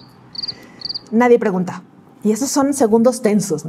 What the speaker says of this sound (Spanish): se oye los grillos ahí